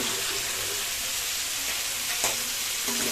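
Chicken pieces frying in hot oil with whole garlic cloves and potato, a steady close sizzle with occasional stirring scrapes throughout.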